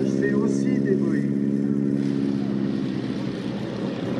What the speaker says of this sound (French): Mais là-haut, c'est un Boeing et en bas au décollage, c'est aussi des Boeing.